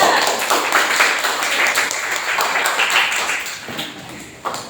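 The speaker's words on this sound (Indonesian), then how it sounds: "Tepuk tangan untuk kelompok 2." A classroom audience claps for a student group that has just finished presenting, a dense, steady patter of many hands that carries through the whole stretch and tapers slightly near the end.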